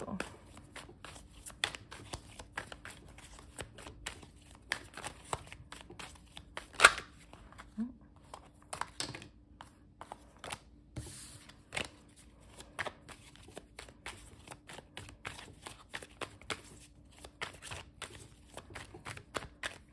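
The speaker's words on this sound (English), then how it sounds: "So we got some cards flipping here" Tarot cards flipped and shuffled by hand, soft scattered snaps and riffles in irregular bursts, close and fairly quiet against a faint hum.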